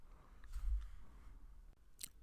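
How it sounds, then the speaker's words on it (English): A paper trimmer slices through a sheet of silver holographic facets foil in a couple of short, crisp crunching strokes, close by and fairly quiet. "I'm going to trim a piece of this silver holographic facets foil"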